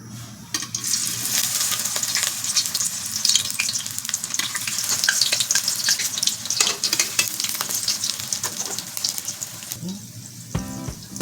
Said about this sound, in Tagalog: Iprito na natin yung mga hash brown.